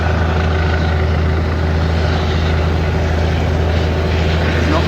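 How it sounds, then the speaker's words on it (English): Helicopter flying low over farmland to inspect electric power lines, a loud, steady rotor and engine roar that fills the whole stretch without letting up. "they do it with a helicopter"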